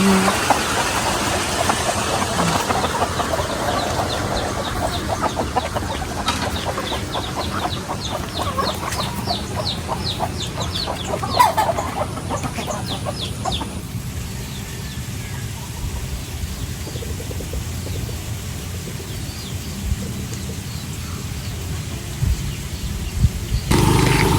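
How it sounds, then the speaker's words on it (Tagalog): Tethered chickens cluck and a rooster calls over a steady outdoor background with an engine hum; the clucking continues on and off throughout. "may mga tinali pang manok dito ah"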